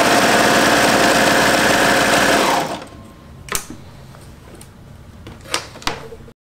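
A serger runs at a steady, loud whir, stitching knit fabric seams together, then stops abruptly partway through, leaving a few soft clicks and fabric handling sounds in a quiet room.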